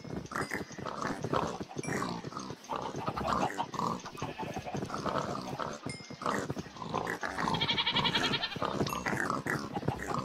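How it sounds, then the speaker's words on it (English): A crowd of pigs in the Minecraft video game grunts and oinks continuously, many overlapping snorts packed close together and loud throughout. "There's so many pigs in here."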